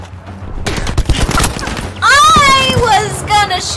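Rapid gunfire bursts in Battlefield 5 on PS4 Pro, a loud rattling volley of shots followed by a shrill whine or explosion tail, mixed with in-game voices.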